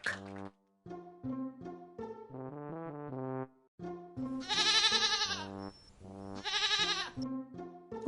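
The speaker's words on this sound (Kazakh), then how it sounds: "Лақ." A young goat kid bleats repeatedly, with short calls giving way to two longer, wavering cries, close and distinct against a quiet background.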